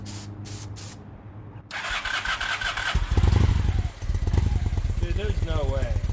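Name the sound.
2000 Honda Shadow motorcycle engine starting with starter fluid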